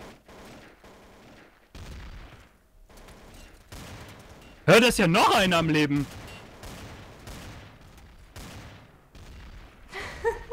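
Gunfire in the game Trouble in Terrorist Town cracks in scattered shots with one loud burst in the middle, while players talk over the action.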